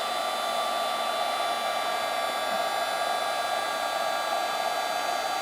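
Heat tool blows a steady, loud, even whooshing hum while melting embossing powder on a card greeting for crafting, running continuously with no talk.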